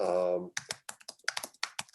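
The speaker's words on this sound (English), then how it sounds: "I'm typing will to power" Keys clack on a computer keyboard in a quick irregular burst of crisp, close taps, after a brief spoken word at the start.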